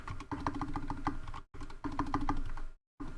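Rapid, close typing on a computer keyboard during a game development coding session, quick clusters of key taps with two short pauses.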